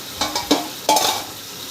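Chicken pieces stirred and fried in a pan for Bengali chicken kosha, several scraping spatula strokes in uneven rhythm over a continuous close sizzle, no talking.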